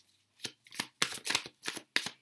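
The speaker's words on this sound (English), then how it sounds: "I'm going to shuffle out their star sign" Tarot cards shuffled by hand in quick, crisp riffling bursts, about seven short rustling flurries close to the listener with brief pauses between them.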